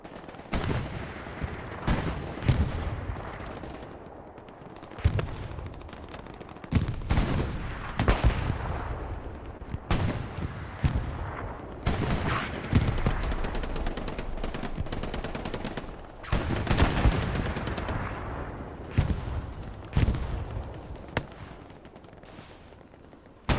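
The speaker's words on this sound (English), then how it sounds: "Rockets flying from either team." Rockets and gunfire in the video game Hell Let Loose: dense bursts of rifle and machine-gun fire crackle in repeated volleys, with heavier booming blasts mixed through, loud and continuous across a chaotic battlefield.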